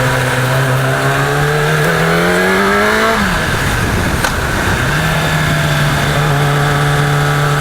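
A motorcycle engine holds a steady drone, gives a quick throttle squirt that rises in pitch, drops sharply as the bike slips into neutral, then settles back to a loud, close, even idle with no talking.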